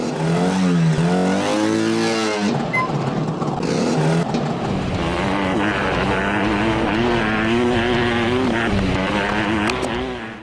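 Motorcycle engine in a simple 2.5D motorcycle trials video game, loud and continuous, revving up and down in wavering pitch with throttle changes throughout, no talk over it.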